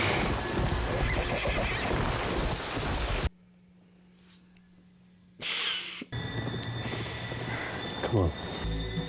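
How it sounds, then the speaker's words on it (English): A horse whinnies loudly amid a chaotic scene in the TV show The Last of Us, with hoofbeats, rumbling noise, a sudden quiet gap, then more commotion and a voice. "Couldn't even stop the horse."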